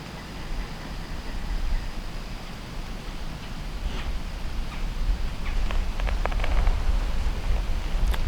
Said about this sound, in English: we got some more rain coming down right now